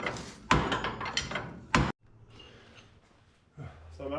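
A boot kicks a stuck part of a Ford F100 frame being cut for a Crown Vic swap, landing two loud metallic bangs about a second apart, followed by quieter rattling and brief low sounds.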